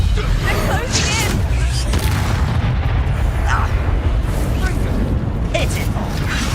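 Confringo fire-blast spells in the video game Hogwarts Legacy, booming explosive bursts over a dense, continuous roar of battle noise and rumble, with a voice casting spells throughout.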